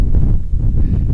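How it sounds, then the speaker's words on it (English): Strong wind buffets an outdoor microphone in a steady, loud low roar with gusty swells and a brief dip midway, no voices. "It's very windy out, have you noticed?"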